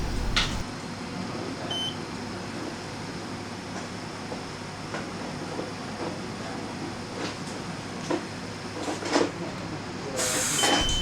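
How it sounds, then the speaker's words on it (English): An oil mist detector alarm on reconditioned detector heads sounds during a smoke spray test, giving a few sharp electronic beeps over a steady hiss and low machinery hum, with one louder burst near the end. "Apart from hearing the alarm, we can also see the relevant indicator lights on both the head and the unit"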